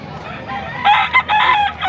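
A six-month-old stag, a young rooster, crowing at a Sunday auction: one loud, close crow rising and breaking into several strained segments over faint crowd murmur.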